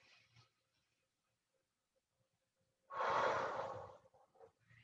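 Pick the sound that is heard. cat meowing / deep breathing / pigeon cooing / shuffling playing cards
deep breathing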